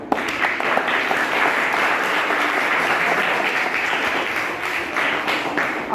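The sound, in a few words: audience clapping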